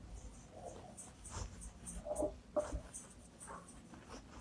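A pen writes on paper in short, faint scratchy strokes, with irregular pauses between the bursts, as a teacher notes down a term for a lesson on nutrition in plants.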